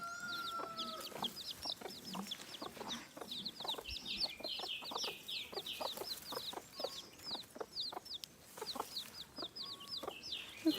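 A mother hen in a Cameroonian village clucks steadily, close and clear, with sharp chirping from chicks layered over the clucks throughout and no talking.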